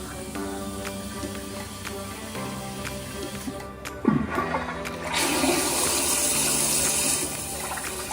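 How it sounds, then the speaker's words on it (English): A HOROW N30 non-electric bidet toilet with dual flush, heard close up in a bathroom: a sudden clunk as the flush starts, then a strong steady gush of rushing water that runs for a few seconds and continues refilling. "the dual flush feature delivers a powerful and efficient flush"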